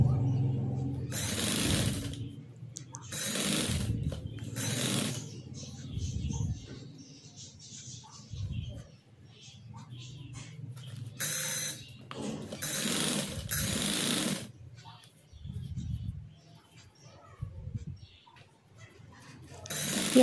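Sewing machine fitted with a size 18 needle stitching piping onto a fabric roti cover, running in several fast, close bursts separated by quieter pauses and handling noises, no talking.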